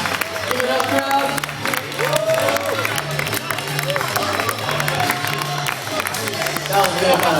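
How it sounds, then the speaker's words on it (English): A live crowd at a beatbox battle claps and cheers after a performance, a dense, loud wash of applause and whoops that lasts throughout, with voices mixed into the noise. "Give it up, crowd."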